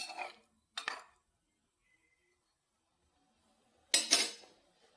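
Three short bursts of metal spoon scraping and clinking against a pot while fish curry with tamarind and curry leaves is stirred, separated by near silence, close and moderately loud.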